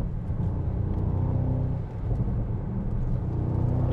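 Mercedes SL 63 AMG cornering on wet California roads, a steady low engine rumble with tire hiss inside the cabin, dipping briefly then building again, with no talk.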